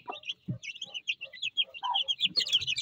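Chicks peep and cluck in rapid bursts while being fed eggs on a Turkish poultry farm, close and lively, with short high chirps overlapping and a few lower clucks mixed in.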